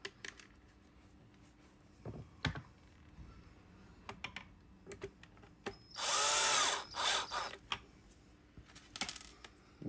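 Power screwdriver driving screws into the ball housing of a Dyson DC25 vacuum cleaner: one loud whirring burst of about a second, then a couple of shorter spins, amid light clicks and handling noises.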